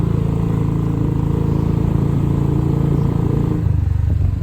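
A two-wheeler motorcycle rides along a road into town with a loud, steady engine drone close by, its pitch shifting slightly near the end, and no voices.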